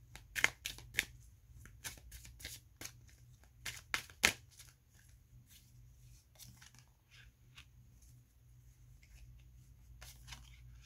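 Tarot cards give off a series of crisp, close snaps and riffles during shuffling and drawing, in quick bursts separated by quiet pauses.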